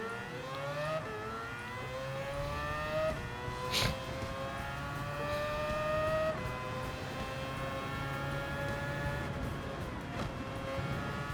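A WTC 900 race car in Gran Turismo 7 drives Spa, its engine winding up through the gears in repeated rising pulls, loud and continuous with no talk.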